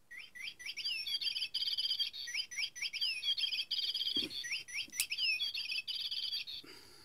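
Small AliExpress toy bird giving off a continuous run of bright, repetitive electronic chirps and tweets, fairly close and steady, with a brief soft thump near the end.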